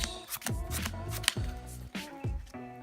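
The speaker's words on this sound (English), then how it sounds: "so you just do a little shuffleage, then we do a little cuttage" A deck of Yu-Gi-Oh cards being shuffled by hand, with quick rhythmic riffling bursts and soft slaps in steady succession, close and crisp with no talk.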